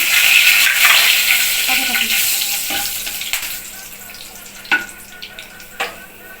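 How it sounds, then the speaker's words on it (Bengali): Whole garam masala and bay leaves frying in hot oil, a loud close sizzle that gradually fades, with a few light clicks of a utensil near the end. "গোটা গরম মশলা ছিটতে করে গোটা গরম মশলা, তেজপাতা দিলাম"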